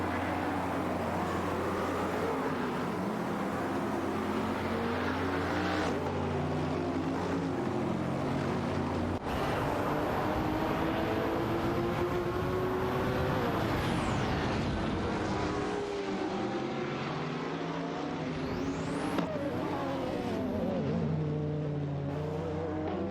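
Racing car engines drone loudly and continuously, with shifting pitch sweeps as cars rise and fall in revs and dash away, one roaring pass after another with no voices.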